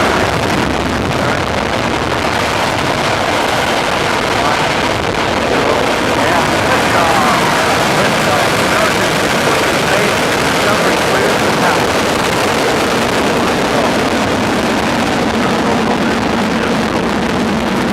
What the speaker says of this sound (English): We'll go for main engine start.